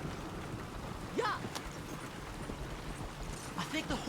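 Hooves of a skittish horse clip-clop in Red Dead Redemption 2, faint and irregular over a continuous noisy wash, with voices talking and a brief call partway through.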